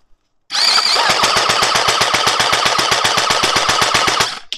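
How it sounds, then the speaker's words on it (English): An upgraded Stratos Pro gel blaster Gatling gun fires a fast, steady stream of close, loud shots over a whirring motor for about four seconds, then stops abruptly. "All right, so let's go ahead and shoot here."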